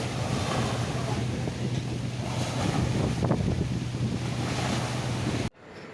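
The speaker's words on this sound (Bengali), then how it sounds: "কতটা সুন্দর ঢেউ আসছে তোমরা দেখো গাইস" River waves wash in along the bank under strong gusts of wind that buffet the microphone, a continuous close rumble and rush that suddenly drops away near the end.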